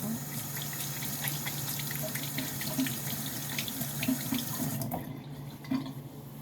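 Tap water runs steadily into a kitchen sink while something is washed, a continuous close splashing stream with small clinks of dishes, briefly dropping off near the end.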